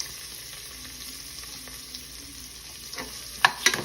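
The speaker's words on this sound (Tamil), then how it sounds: "நல்லா வதக்கிக்கலாம்." Onion and curry leaves sauté in hot oil in a pan, a faint steady sizzle with soft stirring, ending in a few sharper clinks and scrapes near the close, no talk.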